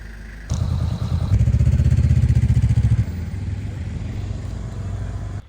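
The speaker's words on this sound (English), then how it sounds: "we climbed back on the bikes and continued our ride toward Thimphu" Dirt bikes ride on a road toward Thimphu in Bhutan, engines rising from a low idle into a loud, rattling rev that holds for a couple of seconds before settling back to a steady mid-pitched drone.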